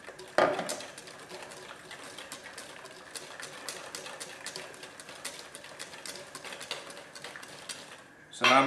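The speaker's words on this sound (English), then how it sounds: "now I'm going to whisk in 50 to 70 ml of the garlic oil" A whisk works steadily through a thickened salad dressing as garlic oil is added, giving a continuous light scraping and tapping against the bowl at close range with no talk.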